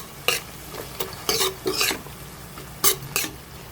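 A utensil scrapes and stirs in a pan of frying chicken, seasoned with ground black pepper, in several quick strokes over a faint background sizzle, with no talking.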